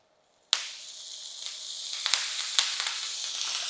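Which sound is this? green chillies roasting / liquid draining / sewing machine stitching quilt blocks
green chillies roasting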